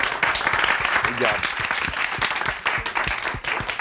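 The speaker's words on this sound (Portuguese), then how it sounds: "Palmas para ela." Studio audience applauding a guest on a Brazilian TV talk show about transplants, a dense steady wash of many hands clapping at close range for the whole stretch, with faint voices mixed in.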